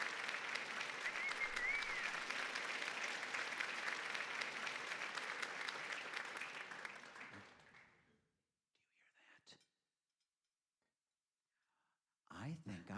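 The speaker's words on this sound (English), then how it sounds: "I think we owe her a round of applause for all of her hard work." Guests at an office Christmas party give a warm round of applause that holds steady for several seconds, then tapers off into quiet, with a few faint sounds before a new noise starts at the end.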